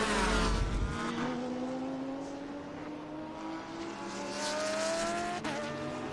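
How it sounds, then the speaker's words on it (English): A Lamborghini race car roars past on a circuit, its engine note climbing steadily as it accelerates away, loud and close without any talk. "The Lamborghini just passes us here."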